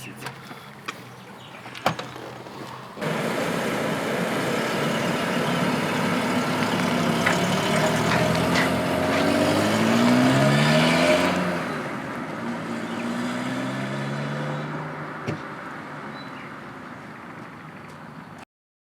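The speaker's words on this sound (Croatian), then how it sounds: "Ajmo kako auto ide sad." A car engine runs after a scrapyard repair, heard close and loud; it idles steadily, then revs up with a rising, swelling drone before easing back down to a steady run.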